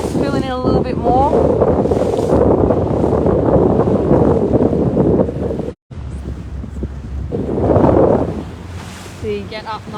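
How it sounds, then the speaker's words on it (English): Wind gusting across open water during an SB20 sailboat race in Australia, a steady broad rush with microphone buffeting that surges late on, under a commentator's voice. "That wind has probably picked up a couple knots now"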